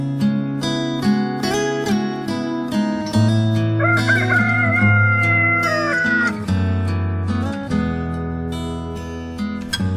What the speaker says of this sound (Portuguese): Na mesma hora, o galo canta a terceira vez.